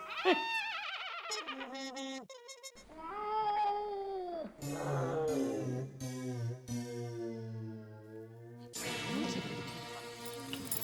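A person mimics a cat, giving a run of drawn-out, wavering meows and caterwauls in a comedic scene. The sounds are close and varied in pitch, separated by short gaps.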